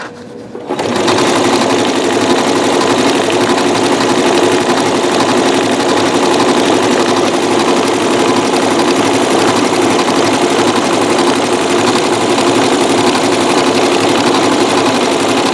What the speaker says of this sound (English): you can have flawless results sewing with metallic threads